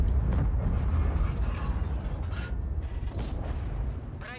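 Enemy artillery shell slams into a tank in World of Tanks, a loud close crunching explosion followed by metallic creaks and rumbling debris over several seconds, with no voice.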